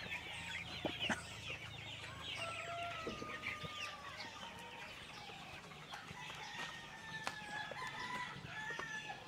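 Darag native Filipino chickens cluck and crow in a farmyard, several drawn-out crows and scattered clucks at moderate distance over a soft steady background hum, faint overall with no talk.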